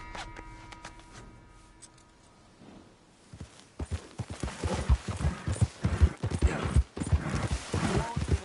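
Horse hooves in a PS4 video game clip-clop at a walking pace through a camp, growing louder and busier toward the end, with a low rumble of background noise.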